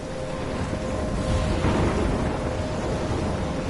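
A thunderstorm in the video game Life is Strange roars with a dense, continuous wash of rain and low rumbling thunder that swells slightly midway, loud and unbroken throughout.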